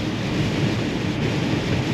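Strong wind buffets a long-haul truck on the road to Arizona, a steady loud rushing roar with no pauses and no talk.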